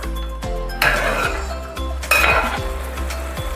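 Chicken with garam masala, for a traditional Kerala country chicken dish, sizzles and fries in a pan as it is stirred, with metal utensils clinking and scraping against the pan in bursts, close up and with no voices.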